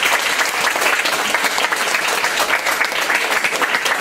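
Steady, dense applause from a school concert audience honoring the teachers, even and sustained throughout with no talk over it.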